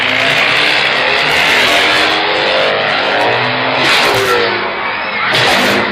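Evel Knievel's motorcycle revving before his jump over 14 Greyhound buses, its engine note rising and falling in repeated loud revs over a broad crowd roar, with a voice faintly underneath.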